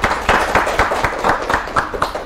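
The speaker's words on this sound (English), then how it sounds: "Give applause to the second team." A classroom audience applauding a second team during a microteaching group activity, with a short burst of rhythmic close clapping from a small group.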